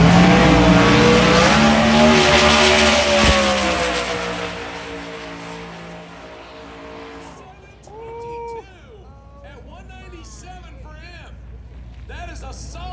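A 2018 copper-colored Mustang makes a drag racing run at TX2K, a loud engine roar with rising and shifting tones that gradually fades into the distance while an announcer talks over it.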